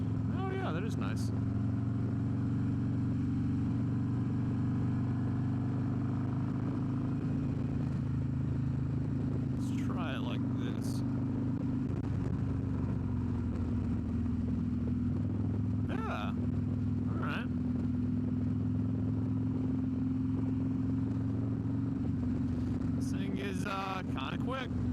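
Harley-Davidson CVO Road Glide ST motorcycle riding, a steady loud low engine drone and wind rumble throughout, with brief voices talking over it now and then.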